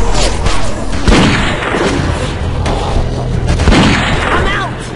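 Loud gunshots and heavy booms in The Walking Dead video game, several thumping shots spread irregularly over a noisy mix with voices in the background.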